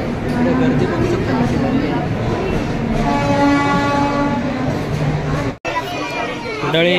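A Tutari Express passenger train on the Mumbai to Konkan line rumbles steadily with a long horn blast and some wheel clatter, heard from inside the carriage with voices talking over it.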